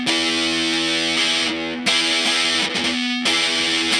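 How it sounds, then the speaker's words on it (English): A Gibson ES-335 electric guitar played through fuzz, sustained thick distorted chords ringing loudly with a few brief breaks between strums. "it really holds up under some fuzz."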